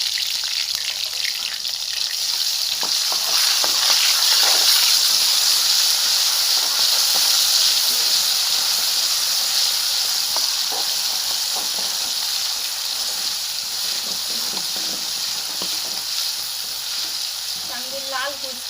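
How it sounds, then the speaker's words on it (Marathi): Cumin, mustard seeds, curry leaves and ginger-garlic paste sizzle and hiss steadily in hot oil, a loud, continuous frying crackle with occasional pops and scraping, no talk over it. "थोडीशी जिरी मोहरी टाकून घेऊ, कढीपत्ता टाकून घेऊ, अद्रक लसूणची पेस्ट घालून घेऊ।"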